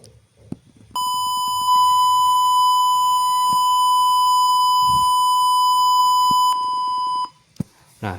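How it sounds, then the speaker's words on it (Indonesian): A steady electronic buzzer tone from a microcontroller circuit sounds continuously for about six seconds, loud and close, preceded and followed by faint clicks and handling noises. "di situ terjadi suara buzzer yang mengalami pengeluaran suara atau output"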